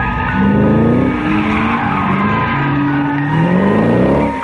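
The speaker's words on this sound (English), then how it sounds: "That camera's like under the bumper of these cars as they're drifting around." Race cars drifting at Laguna Seca in the Gran Turismo PSP video game: continuous loud tire squeal with wavering pitch, layered over roaring engines, sustained for the whole stretch.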